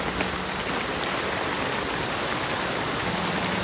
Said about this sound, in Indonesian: Hujan deras banget di lokasi Park Serpong ya.